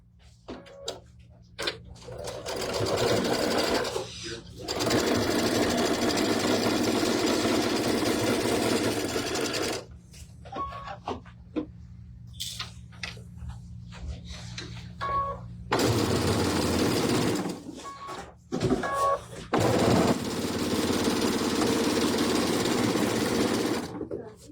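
Sewing machine stitching quilt seams in bursts of steady rapid whirring, running for several seconds at a time and stopping between seams, close and loud, with brief quiet pauses and occasional talk.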